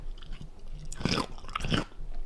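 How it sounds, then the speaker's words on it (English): Someone chews a bite of raw cucumber close to the microphone, producing two wet, crisp crunches about half a second apart over quiet background munching. "Wait, let me get a crunch."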